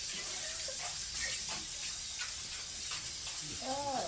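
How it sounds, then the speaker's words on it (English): Water runs steadily from a tap into a pot in a constant hissing stream, with brief faint voices in the background. "Maybe put some water in here."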